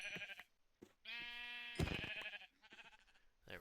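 A sheep in the video game Minecraft bleats twice in a row, clear and close, with a quiet pause between the calls and no speech.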